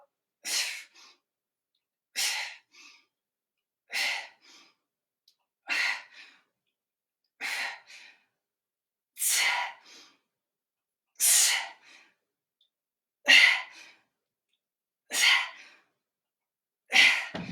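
Heavy, forceful breaths during a strength-training workout come in a steady rhythm, about nine sharp exhales spaced a couple of seconds apart, close and loud with silence between.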